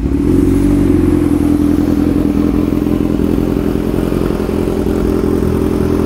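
A Kawasaki 1000cc naked motorcycle idles steadily up close, a loud, even, low engine rumble with a constant pulsing tone and no revving or talk.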